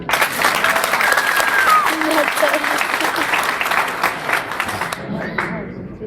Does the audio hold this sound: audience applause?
yes